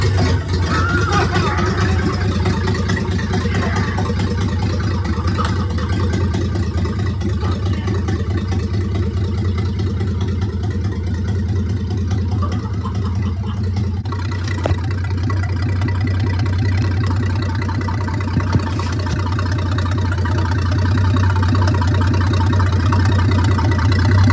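Steady and loud throughout, the engine of a restored WW2 Clarktor aircraft tug drones in a low, even rumble as the vehicle drives, with a brief clunk midway and no break in the running.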